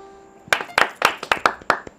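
A handful of sharp hand claps ring out, about seven in a loose rhythm over a second and a half, close and fairly loud after a brief quiet start.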